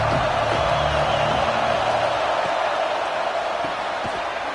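Simulated stadium crowd at a college football video game between Texas and Alabama, with Alabama's offense on the field, keeps up a steady, dense roar throughout with no pauses and no talking.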